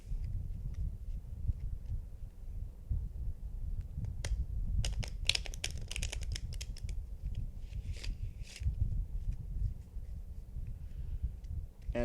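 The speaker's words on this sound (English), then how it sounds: "We're going to give the cards a little bit of shuffle." Crisp riffling bursts of playing cards being shuffled, a few quick flurries in the middle over a low background rumble.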